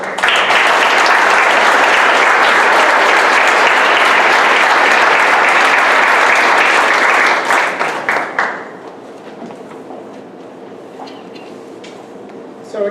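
An audience at a school committee meeting bursts into loud, sustained applause that holds steady for several seconds before fading quickly into scattered claps and room murmur.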